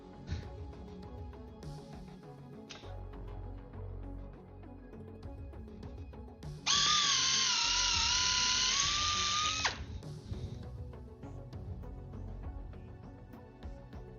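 A stop drill runs at very high speed during an aircraft forward fuselage skin build, a loud steady whine lasting about three seconds, set against a busy workshop clatter and hum.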